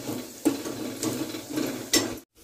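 Whole spices tempering in hot oil in a pan for a Marathi home-style vegetable curry, a steady close sizzle with a few stirring scrapes of a spoon against the pan, then a brief silence at the end.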